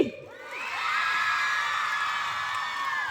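A crowd at a village fair in Haripal, Sahadev gram panchayat, breaks into loud shouting, whooping and cheering that swells after a brief lull and holds steady, with high yells riding over the din.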